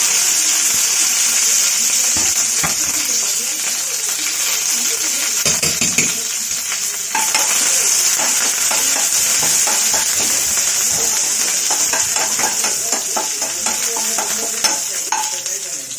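Small onions and curry leaves frying in a pan where mustard seeds have already popped, giving a steady loud sizzle with scattered crackles and the clink of stirring throughout.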